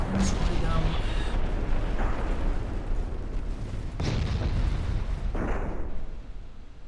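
Battleship guns fire in the naval game Ultimate Admiral Dreadnoughts, several heavy booms spaced a few seconds apart over a constant low roar of battle noise.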